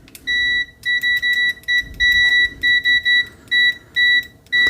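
An ANENG 623 multimeter on its continuity setting gives a rapid string of sharp, high electronic beeps, some short and some held, repeating irregularly as the probes make and break contact, with no talking.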